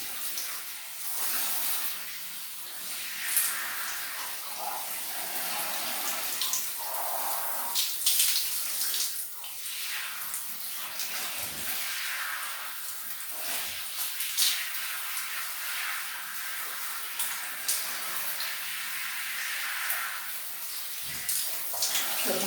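Water running steadily while someone bathes in the afternoon, a broad continuous splashing hiss with small clatters and bumps, close and fairly loud, with no talk.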